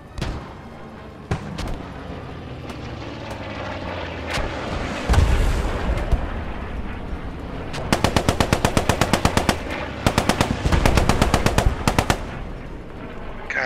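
Automatic weapon fire in the World War II shooter Post Scriptum, long rattling machine-gun bursts and single shots echoing at mid distance, with a heavy boom midway and denser rapid bursts toward the end.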